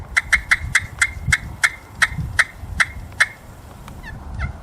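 A handmade Game Kall turkey call sounds a rapid series of sharp, high yelping cuts, about a dozen in an uneven burst, then fades to quieter background noise.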